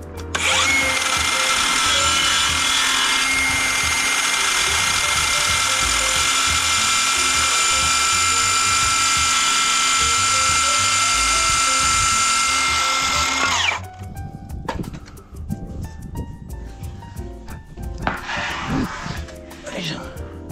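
A power tool cuts wooden rafters to size during DIY partition building, loud and continuous whine for about thirteen seconds, then stopping, followed by scattered clatter and handling noises.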